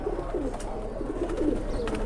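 Pigeons coo softly and repeatedly beside a water bath set out for them, low murmuring calls continuing steadily alone.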